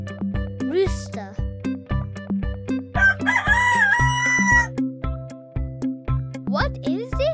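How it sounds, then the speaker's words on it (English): A rooster crows in a loud, drawn-out call near the middle, set against a rhythmic thumping music backing; a voice speaks briefly nearby. "Rooster."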